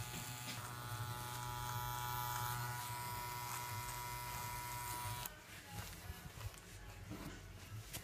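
An Andis Outliner hair clipper runs steadily with a loud, continuous electric buzz, its tone shifting partway through as the blade is worked.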